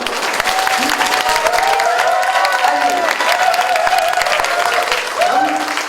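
An indoor audience at a Korean apartment-reconstruction briefing claps steadily, a dense, even wash of applause lasting several seconds with no pause.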